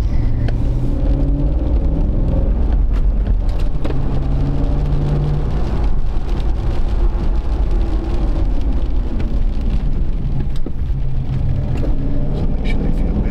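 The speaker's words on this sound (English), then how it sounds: "We'll do a couple ABS stops with it." A GMC Sierra pickup with a failing ABS pump motor drives over loose gravel in a park, a loud continuous road rumble with crunching tire noise and a couple of abrupt braking stops.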